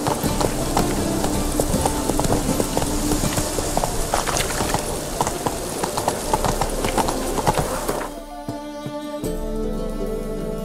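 Roach, a horse in The Witcher 3 video game, galloping with rapid continuous hoofbeats, loud and close, ending abruptly into quieter ambience near the end.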